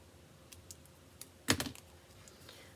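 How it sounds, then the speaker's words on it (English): Paper trimmer slicing cardstock: a short, quick cutting swipe, preceded by faint light taps and handling sounds in a quiet room. "I'm going to flip that over and trim that down"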